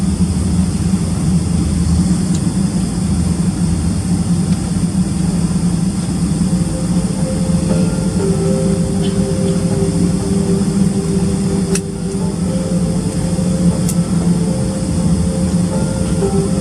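Delta Boeing 777 jet engines heard from inside the cabin on the takeoff roll, a loud, steady roar and rumble with a constant whine, no voices over it.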